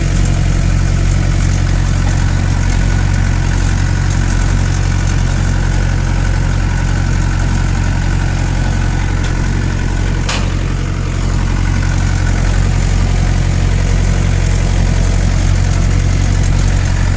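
A 2000-model Mahindra 575 tractor engine pulling a 9-tyne cultivator through a field, a loud, steady low diesel drone with strong rumbling tones that holds unchanged throughout, with one brief click near the middle.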